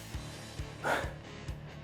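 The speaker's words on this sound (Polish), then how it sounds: "Sapie strasznie." Heavy, rhythmic panting and gasping from a man between kettlebell swing rounds in a Tabata interval workout, with short regular breath pulses and one louder gasp in the middle, close to the microphone.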